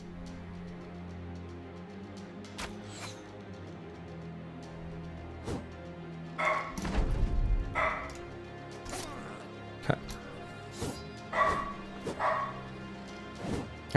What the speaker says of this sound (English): I don't know what he's barking at.